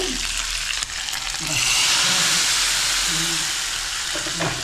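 Dried red chilies fry in hot oil for sambar with a loud, continuous crackling sizzle that swells partway through. A voice speaks faintly underneath.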